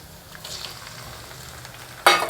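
Onions and tomatoes fry in a pan with a soft, low sizzle, and a sudden louder burst of hissing breaks in near the end, close by and with no talking.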